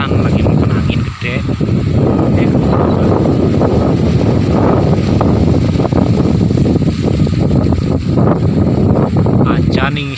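Strong seasonal wind gusting through a village, a loud, steady roar of broadband rush and microphone buffeting that holds for the whole stretch with little letup, with a voice faintly mixed in.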